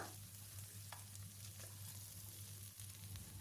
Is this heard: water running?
no